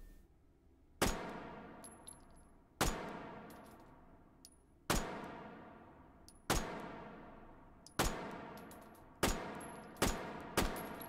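A Bergmann No5 pistol fires in the VR shooter Hot Dogs, Horseshoes and Hand Grenades: about eight loud, sharp shots at uneven intervals, each ringing out and decaying before the next, with no talking.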